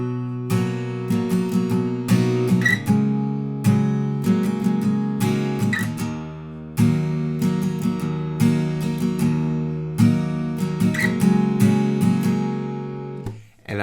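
Guitar strums power chords, including D5 and C5, in the verse of a song. Rhythmic, punchy strums repeat steadily with short pauses between phrases, played alone without talk.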